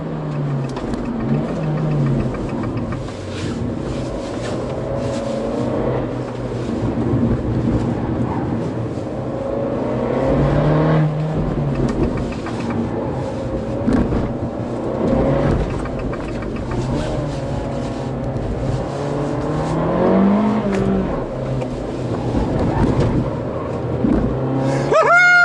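An Abarth 695 Anniversario's small engine revs hard on a race track, a loud, continuous in-car drone rising and falling through gear changes for about twenty-five seconds, with no talking.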